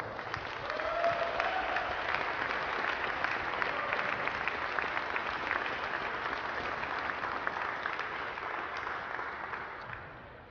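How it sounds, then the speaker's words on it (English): Steady applause from a crowd welcoming the divisional champions at the 2017 Military Combatives Grappling Championship, a dense even wash of clapping that holds for about ten seconds before tapering slightly at the end. "Let's give them a round of applause."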